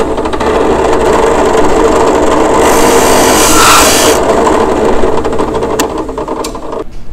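A drill press boring a test hole into a wood board, a loud close whirring grind that swells as the bit cuts through mid-clip, then winds down to a lighter motor hum.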